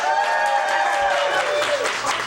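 Audience applause at a live comedy-style night as a crowd claps to vote for a neighborhood in a bracket contest, steady clapping with some cheering voices throughout, a sustained tone running beneath.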